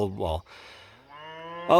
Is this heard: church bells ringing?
no